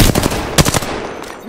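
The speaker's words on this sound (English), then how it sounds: "Getting shot at. Opening fire." Video game gunfire rattles in short, loud automatic bursts, two or three close volleys of rapid shots that fade out after about a second.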